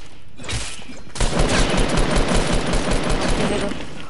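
Video game gunfire comes as rapid, dense automatic bursts that start after a brief lull and then run almost without a break, loud and close, with heavy low thumps beneath crackling reports.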